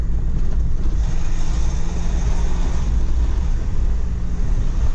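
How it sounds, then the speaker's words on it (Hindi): A Mahindra Scorpio SUV fitted with offroad tyres is driven, its engine and road rumble heavy and continuous from inside the cabin, with steady wind and tyre noise and no talking. "काफ़ी टाइम के बाद चला रहा हूँ स्कॉर्पियो"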